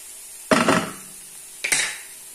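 A utensil stirs chicken wings with a teaspoon of sugar in a frying pan, giving two separate scraping, clattering bursts against the pan with quiet between them.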